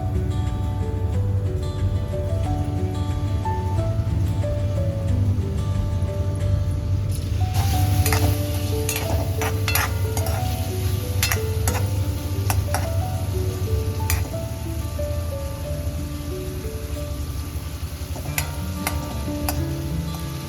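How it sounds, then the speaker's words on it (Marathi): Paneer frying in oil in a pan gives a steady, loud, close sizzle, joined midway by sharp crackles and spattering pops that continue to the end. "मी थोडं पनीर तळून घेते आहे."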